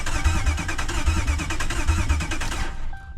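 A Ram 1500 pickup engine cranks with a rapid rhythmic chugging from the starter, loud and close, cutting off abruptly near the end.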